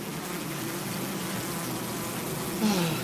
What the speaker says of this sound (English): The sponsor's bees descended furiously from above.